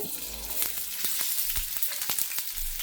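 Onions sizzling in hot oil in a pan, a steady crackling hiss with occasional soft stirring clicks and thumps, close and continuous for a few seconds.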